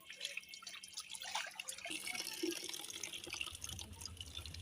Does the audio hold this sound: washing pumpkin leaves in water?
yes